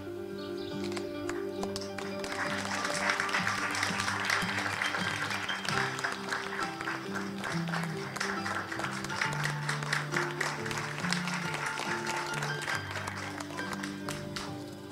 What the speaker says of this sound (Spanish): brindamos un caluroso aplauso a los niños